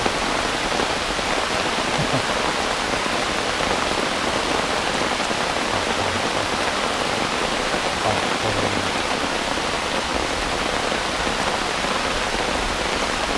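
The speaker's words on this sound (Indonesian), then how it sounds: "Ini hujannya lumayan deras." Heavy rain pours steadily through a jungle forest, a dense, constant hiss of drops on foliage and surfaces, close and loud throughout with no voices.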